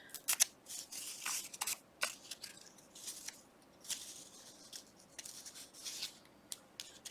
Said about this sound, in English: It's always tricky to tear stuff when it's too close to the edge.